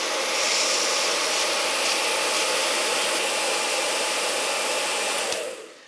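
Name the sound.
hair dryer heating metal cake ring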